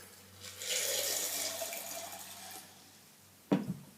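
Water runs briefly into a mason jar of soaking pea seeds, a soft splashing pour for about two seconds, followed by a quiet pause and a single sharp knock of glass.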